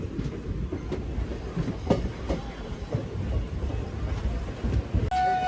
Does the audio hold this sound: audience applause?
no